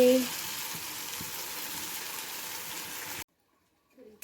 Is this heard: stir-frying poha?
yes